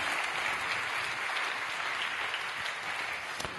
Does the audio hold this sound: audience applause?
yes